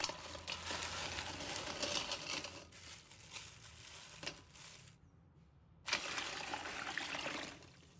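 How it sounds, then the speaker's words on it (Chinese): Clams are rubbed and rinsed by hand in a basin of water, giving soft sloshing, trickling and light shell clatter in several bursts separated by a brief silence. "用手轻轻地搓洗壳体，让表面的沙子和杂质洗掉，多清洗几遍"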